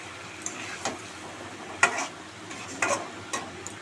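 Potatoes for aloo dum frying in oil in a pan, with a steady soft sizzle broken by a few sharp stirring scrapes and clicks, close and fairly quiet.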